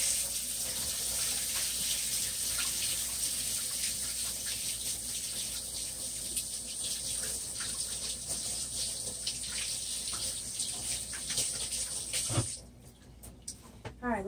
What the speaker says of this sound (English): Let me wash this off my hands real quick.